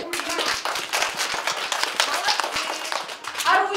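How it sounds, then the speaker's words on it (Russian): A group of young children claps their hands at a kids' event, a brisk, uneven patter of many small hands close by, mixed with voices and a child's call near the end. "А хлопать умеете?"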